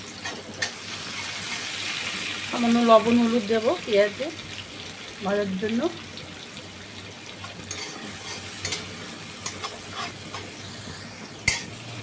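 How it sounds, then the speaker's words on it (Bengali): Steady frying sizzle with occasional stirring and utensil clinks, a voice briefly speaking over it before the cooking noise continues alone. "পেঁয়াজ ভেজে তুলে নিয়েছি"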